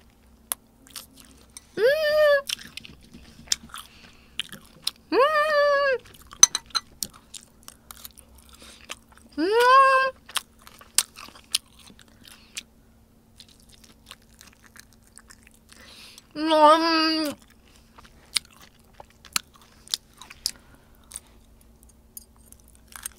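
Boneless seasoned fried chicken is bitten and chewed in several loud, crisp crunching bursts spaced a few seconds apart, close up, with quieter mouth sounds and small clicks in between.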